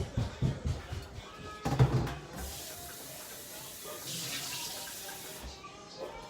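Water runs from a kitchen tap into a bowl in a steady hiss after a few knocks and clatters, lasting a few seconds before stopping.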